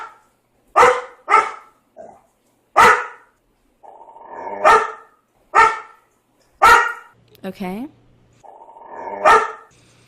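A dog named Buddy barks about eight times in sharp, loud, close bursts with short pauses between them, and a person speaks briefly among the barks.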